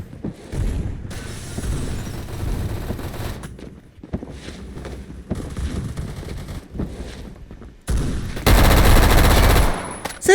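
Rapid bursts of automatic gunfire from a new overpowered gun in a video game, loud and close, coming in several sustained volleys with short pauses and a dense, heavy barrage near the end.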